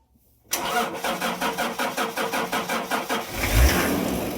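A car engine cranks with a rapid, even starter chatter for about three seconds, then catches and settles into a rough mid-pitched idle, close and fairly loud, with no voices.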